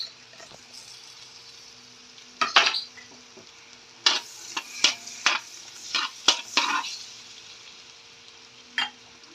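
Garlic and onion sauté in a pan over a soft, steady sizzle, with sharp scraping and clinking strokes from a utensil arriving in quick bursts and a later lone stroke.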